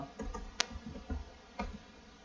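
Someone types on a computer keyboard while entering input at a Linux Debian terminal. A handful of light, irregular key clicks sound close up over a quiet background, with one sharper tap standing out.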